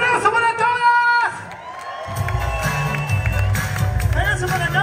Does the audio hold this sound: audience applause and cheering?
yes